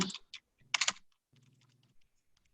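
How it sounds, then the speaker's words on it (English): Clattering key taps on a computer keyboard as a web search is typed, coming in a few quick bursts of keystrokes with short pauses between them, close and fairly quiet. "So I'm going to type in"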